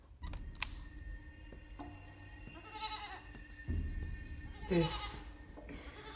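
A goat bleats in a scene from the TV show Severance, with a few short cries rising above low background sound and a voice briefly heard.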